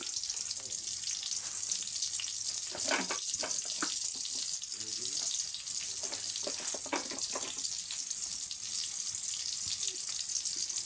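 Two dried red chillies fry in hot oil, giving a steady, soft hiss with scattered crackles and spits, fairly faint and continuous throughout.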